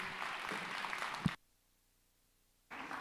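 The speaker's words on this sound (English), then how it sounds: "Please give a warm round of applause for Zoe." Audience applause rises at an event welcoming a co-host, a steady broadband patter that cuts off abruptly into near silence before returning.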